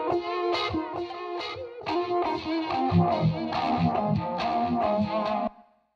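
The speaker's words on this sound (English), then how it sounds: "the guitar part with the delay" An electric guitar part through a Line 6 Helix custom preset with synced delay plays a run of picked notes, echoes trailing each one in rhythm, mildly distorted and upfront, ending with a quick cutoff.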